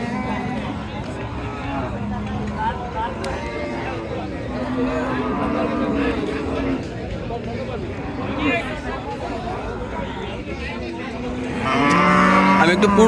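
Cattle moo repeatedly at a crowded rural Qurbani cattle market in Hazratpur, long low calls rising over steady crowd chatter and talk, with a louder bellow at the end.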